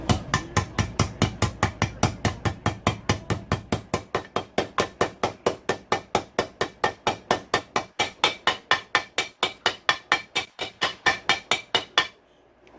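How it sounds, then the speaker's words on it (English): Hammer tapping a frozen bearing onto a KTM 150SX/125SX crankshaft during a motor rebuild: a long run of quick, even metallic taps, heavier at first and then lighter, about five per second, close up and alone. "You don't have to hit it hard. Make sure you have a little bit of hand-eye coordination with a hammer."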